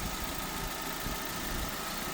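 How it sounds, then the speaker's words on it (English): A Suzuki SX4 engine idles steadily with the bonnet open, a close, even low rumble with faint knocking vibration and no speech. "So I have left the engine running."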